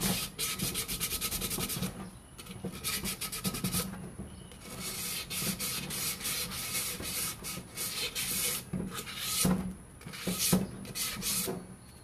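A cup is sanded by hand with 220-grit sandpaper, giving loud, close rasping strokes in irregular bursts separated by brief pauses, with no one talking.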